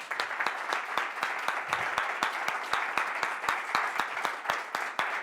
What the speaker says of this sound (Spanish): Un aplauso, por favor, Antonio.